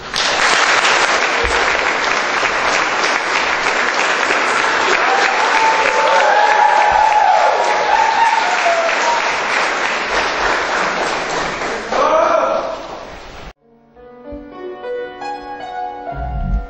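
Audience applause welcomes performers at a graduation recital, a steady, loud wash of clapping that runs for about thirteen seconds before stopping abruptly, after which a few soft instrumental tones sound.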